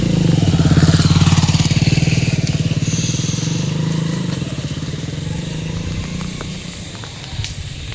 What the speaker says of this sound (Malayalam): ഏതോ ഒരു ബൈക്ക് വരുന്നുണ്ട്.